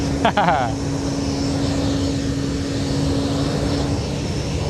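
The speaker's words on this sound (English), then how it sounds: "DHL A300 off to Milan, or Milan." A DHL Airbus A300 departing London Luton Airport gives a continuous, steady jet roar with a sustained engine hum throughout; a brief voice-like sound stands out near the start.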